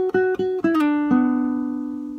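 A short fragment of a Peruvian waltz on guitar: three repeated plucked notes, then a brief flurry and a slide into a long ringing note that fades out, close and clear with no voices.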